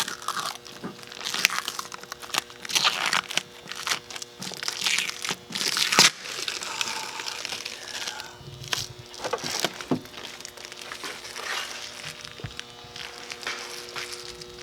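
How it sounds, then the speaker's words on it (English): Plastic covering peeled off a car engine intake gives close crackling and crinkling that goes on without a break, with louder crunches here and there and no talking during it. "Oh, can I take the plastic off?"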